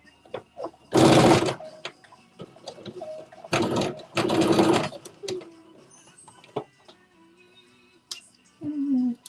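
A sewing machine stitching a vest or crop top runs in loud, short bursts of about a second each, separated by quieter gaps with faint clicks and handling noises.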